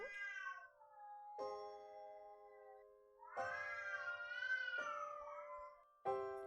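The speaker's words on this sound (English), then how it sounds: "Are these angry cat noises or fucking cat noises?" Cats meowing and caterwauling in a video game, a series of long wavering yowls in separate bursts, fairly quiet with no speech over them.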